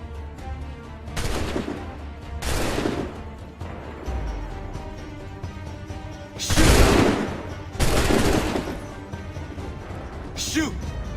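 Massed musket volleys from Revolutionary War-era troops in Assassin's Creed 3, several loud broad blasts a couple of seconds apart, each ringing out and fading, with voices between them.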